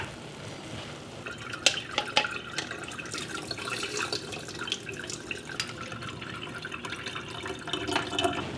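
Cooked lentils drained in a kitchen sink, water pouring and splashing steadily with scattered drips and clatters, close and moderately loud, no talking.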